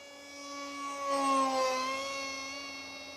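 An RC F-18 model jet with an RC Timer 2216/6 2200Kv electric motor flies by, its high, thin motor whine swelling and shifting in pitch as it passes, then easing off, with no other sounds.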